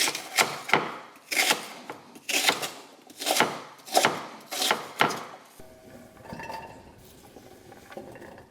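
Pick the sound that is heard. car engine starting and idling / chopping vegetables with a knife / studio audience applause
chopping vegetables with a knife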